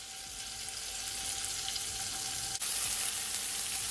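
Butter sizzles in a pot on a stovetop, a steady, even hiss with faint bubbling and a brief dip midway, close and moderate, no voices.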